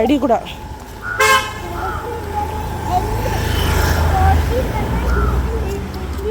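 A vehicle approaches along a narrow village lane, its horn tooting once up close before a steady engine rumble rolls past beneath people chatting nearby.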